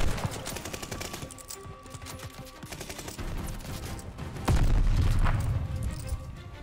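Rapid automatic gunfire from a player moving through a Call of Duty Vanguard mission, firing in dense bursts amid game ambience, then a loud heavy boom partway through.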